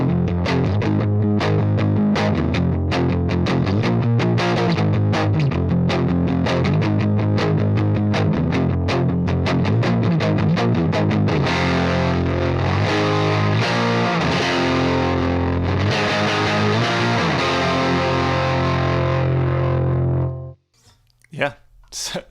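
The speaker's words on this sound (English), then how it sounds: "the next one here is palm muted indie power chords" Palm-muted indie power chords on electric guitar through a Vintage Vibe amp simulator, a chugging, driven and heavily distorted rhythm that plays loud and continuous for about twenty seconds, then stops abruptly into a few quiet trailing notes.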